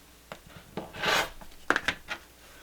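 Quilt binding fabric is cut off a quarter inch from the seam, heard as faint, close scraping and rubbing with a louder drawn-out stroke and a few light clicks.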